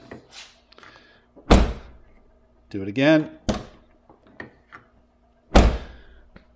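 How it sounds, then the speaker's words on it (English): The door of a 1997-2001 Toyota Camry, just fixed after a handle repair, is opened and shut several times, giving sharp, solid thunks and latch clicks at close range, with a brief spoken voice between them. "So there's the door closed. Just going to open it."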